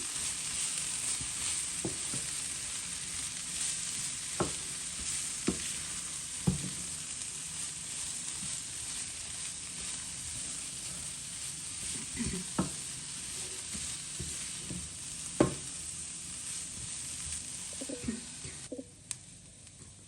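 Drumstick leaves and grated coconut stir-fry in a pan, a steady sizzle of frying throughout with scattered scrapes and clinks of a spatula stirring, close and alone.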